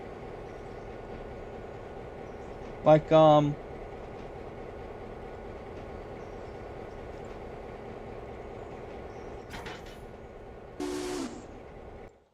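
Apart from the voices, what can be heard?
trains traveling in video game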